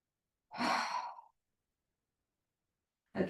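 One slow, breathy exhale lasting under a second during a prenatal yoga shoulder shrug, close and soft, followed by silence and the start of a second breath at the end.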